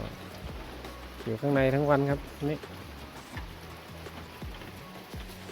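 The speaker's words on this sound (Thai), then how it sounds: "มองไปทางไหนก็มีแต่ฟ้าครึ้มเมฆฝนครับฝนตก" Rain falls in a steady, soft patter under overcast skies, with scattered drops tapping nearby, while someone speaks briefly over it.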